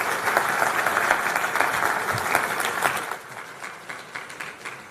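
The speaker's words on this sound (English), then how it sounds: "Chen a big round of applause for his exciting speech for us" Warm applause from a conference audience in a main ballroom for a speaker, many hands clapping steadily and fairly loud before gradually thinning out toward the end.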